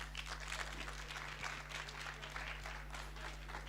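Audience at an international management and law conference giving a round of applause, a continuous wash of many hands clapping at steady loudness with a low hum beneath.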